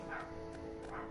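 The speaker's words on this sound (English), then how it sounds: "And dogs are barking." Dogs barking in the video game Stories: The Path of Destinies, a few quick yips and barks close together, fairly faint over a steady background hum.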